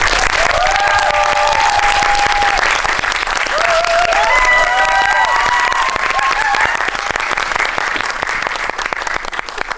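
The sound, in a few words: audience applauding director and actor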